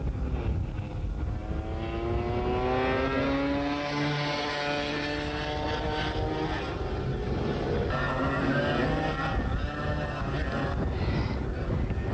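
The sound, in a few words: go-kart engines racing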